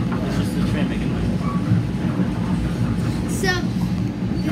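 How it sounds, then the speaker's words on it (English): Train interior noise: a steady rumbling roar of a moving train with a brief high squeal near the end, continuous and fairly loud. "It's just the train making noise."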